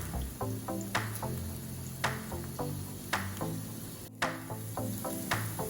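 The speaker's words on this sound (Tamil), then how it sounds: "ஒரு 5 minutes வெங்காயம் வதங்கட்டும்" Small shallots sautéing in a pan for a veggie rice dish, a steady soft sizzle broken by regular stirring clatters and scrapes, close and alone without talk.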